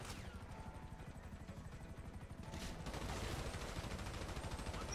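Helicopter rotor chopping alongside rapid bursts of automatic gunfire in the video game GTA 5, a dense continuous barrage that grows louder and more intense toward the end.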